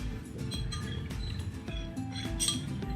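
Spoon or utensil clinking against a container while a watery makeup mixture is stirred, with rapid light taps and scrapes repeating steadily throughout, close and moderately loud.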